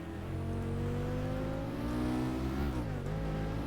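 Race car engine in GTR2 at Suzuka, a heavy car that is hard to drive: a loud, close, continuous engine roar that holds high revs, then dips briefly as the gears shift, with no talk.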